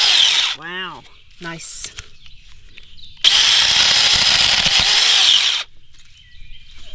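A battery-powered chainsaw cuts through a hand-held stick in one loud, steady burst of about two seconds, with short revving bursts before it and someone briefly talking nearby.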